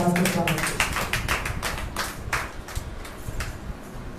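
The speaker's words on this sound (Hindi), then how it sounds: "आइए हम जोरदार ताली के साथ परमेश्वर के दास का स्वागत करें" A church congregation at a Thursday service claps to welcome the preacher, a dense burst of many hands that is loud at first and thins out over about four seconds, with voices mixed in.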